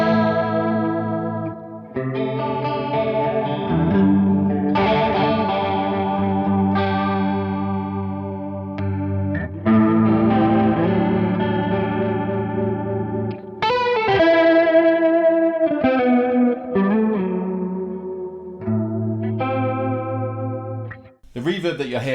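An electric guitar plays sustained chords and melodic notes through a Valeton CH-10 analog chorus pedal's shimmering effect, with a wash of reverb from a Strymon Big Sky trailing each phrase.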